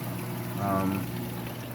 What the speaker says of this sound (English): I'm getting more water flow to the section